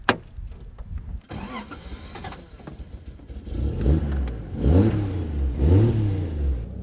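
A Toyota 1JZ engine swapped into a Nissan 240SX cranks and catches with a sharp start, then settles into a loud, nearby idle that surges and dips unevenly in a rough, lumpy rhythm.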